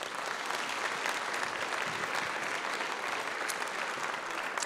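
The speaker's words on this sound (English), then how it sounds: "give yourselves a round of applause" A large crowd at a national schools F1 awards ceremony in Australia gives sustained, even applause, a fairly distant wash of clapping that holds steady without a break.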